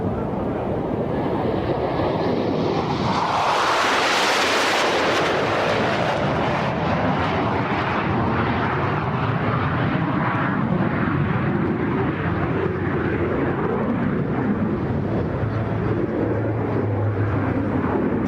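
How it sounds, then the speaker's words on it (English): Two Blue Angels jets rush past at 400 mph over an air show flight line at NAS Oceana, a loud roaring swell that peaks and then trails off into sustained engine rumble and wind buffeting. "Blue Angels 5 and 6 are approaching the flight line at 400 miles per hour"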